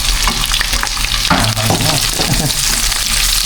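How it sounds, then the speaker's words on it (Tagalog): Onions sautéing in a hot pan give a loud, dense, continuous sizzle with stirring scrapes, and a faint voice murmurs briefly partway through. "Gisa po muna natin yung ating sibuyas."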